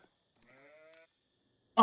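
Sheep in a real-time strategy video game give a single short, thin bleat, clear and isolated against silence, followed by a brief burst of a different sound at the end.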